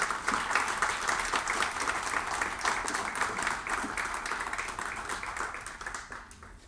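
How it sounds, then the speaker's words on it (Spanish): Audience applause at an Algerian Revolution anniversary commemoration in Chile for the Algerian ambassador, many people clapping steadily in a hall, fading slightly near the end. "Un aplauso, por favor."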